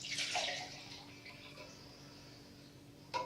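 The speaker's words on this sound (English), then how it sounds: "We're going to put a little water in this can." Water is poured into tomato cans and swirled to rinse them out while making spaghetti sauce, a loud splashing start that fades to a soft trickle, ending with a brief clink.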